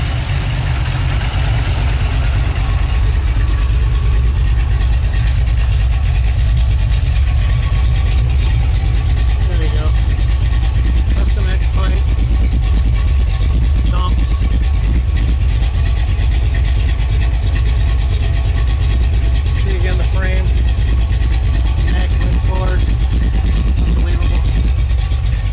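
A 1978 Chevrolet Malibu Classic idling with its exhaust running, a steady low rumble holding at a constant loud level throughout, close to the car.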